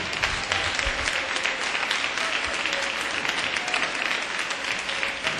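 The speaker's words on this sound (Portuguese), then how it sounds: "Dá uma salva de palmas para Jesus." A church congregation claps steadily, a dense and even wash of applause from many hands that holds for several seconds without talk.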